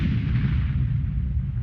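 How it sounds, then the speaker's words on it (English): A TM62 anti-tank mine detonates beneath a military vehicle in a combat zone, a heavy, deep rumbling blast that fills the low end and rolls on without a break, distant and boomy rather than sharp. "the lead vehicle triggers a TM62 mine, causing a devastating explosion"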